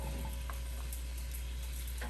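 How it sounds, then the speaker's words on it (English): Chopped vegetables and garlic sizzle in hot oil, a steady close crackling hiss that runs without a break and carries a faint stirring clatter. "I'm gonna be adding this beautiful bowl of veggies I cut up into the oil"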